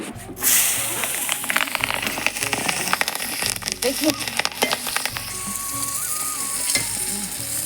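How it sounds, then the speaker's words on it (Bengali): Green chillies hit hot oil in a pan and set off a loud, close, crackling sizzle with bursts of spitting, while someone speaks briefly over it. "কাঁচা লঙ্কাগুলো আমি এবার ভেজে নেব।"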